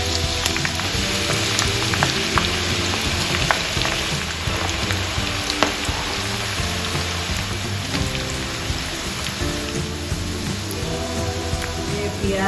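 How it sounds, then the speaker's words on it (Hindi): Onions hiss and sizzle in hot oil in a kadai for egg biryani, a steady, dense frying crackle that carries on for the whole stretch without any talk. "हम इसमें डाल देते हैं प्याज को।"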